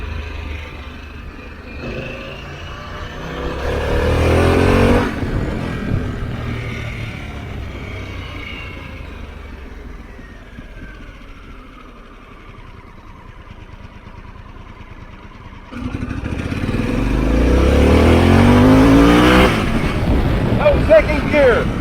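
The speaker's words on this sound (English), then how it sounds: "we're gonna get in the second gear. We're gonna see how well this thing lugs." A 2021 Harley-Davidson Pan America motorcycle lugs in second gear from about 8 mph, its low engine rumble swelling into a louder pull near the end, with someone talking over it throughout.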